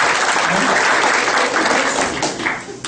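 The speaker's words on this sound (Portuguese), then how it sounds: "Uma salva de palmas para essa situação aí" A sales training audience breaks into steady, dense applause that stays loud and even throughout before easing slightly at the end.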